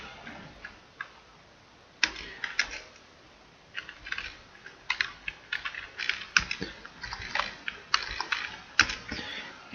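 Typing on a computer keyboard to enter text in a LabVIEW interface, a close run of crisp clicking keystrokes in irregular bursts with short pauses between.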